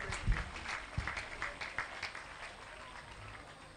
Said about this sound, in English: Let's clap unto God and appreciate Him.